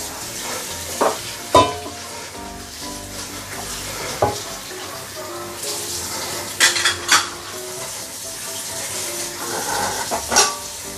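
Pork and Chinese sausage sizzle in a cast iron pot for claypot rice, with a continuous frying hiss under sharp clinks and scrapes of a utensil being stirred against the metal.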